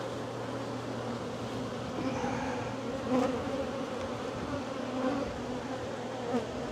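Honeybees drone steadily inside an opened hive during an inspection, a dense, continuous close buzz with a low hum beneath it and brief louder swells as individual bees fly past.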